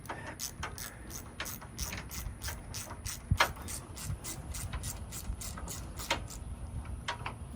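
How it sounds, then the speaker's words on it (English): A small 1/4-inch socket ratchet tightens a screw on a deck railing, making quiet, close, rhythmic clicking that stops now and then. "so just got my baby little 1/4-inch socket set. Put a little square drive in there."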